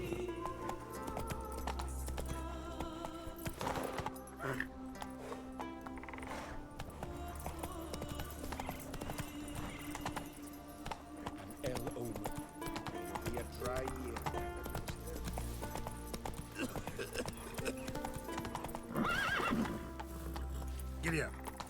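Horses gallop with steady clip-clopping hooves, and loud neighs and whinnies break out over a busy, layered soundscape with voices mixed in.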